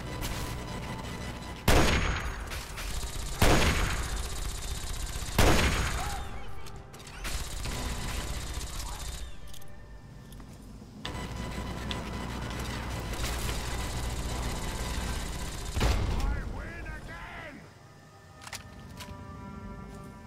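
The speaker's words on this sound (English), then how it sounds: "Had to see him getting blown up there." Several loud, sharp blasts and gunfire bursts erupt in the Fallout 3 video game, spaced every couple of seconds over a dense battle din, then fading into softer clatter and a quieter mechanical hum.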